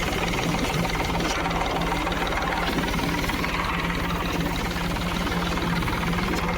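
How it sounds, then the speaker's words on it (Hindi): A tractor engine runs steadily at idle while pesticide is being mixed for spraying, a continuous low mechanical rumble with a faint knocking pulse, close and unbroken throughout. "फाइनली हमने पूरी दवाइयाँ डाल के और कर लिया ट्रैक्टर को चालू।"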